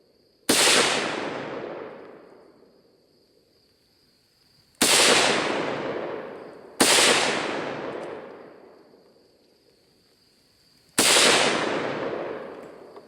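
Four loud SKS 7.62 rifle shots crack out at an outdoor shooting range, irregularly spaced, each followed by a long rolling echo that fades slowly.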